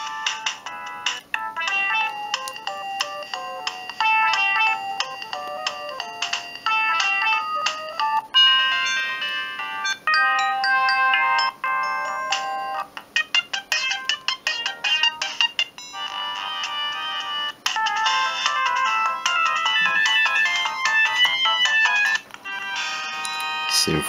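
A Siemens C55 mobile phone plays a polyphonic ringtone melody through its small built-in speaker, a bright, tinny tune of quick electronic notes running continuously for over twenty seconds.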